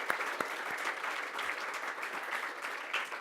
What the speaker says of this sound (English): So one more round of applause for Auckland,